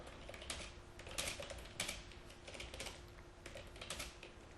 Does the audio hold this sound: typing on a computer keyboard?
yes